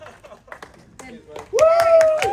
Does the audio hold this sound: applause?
yes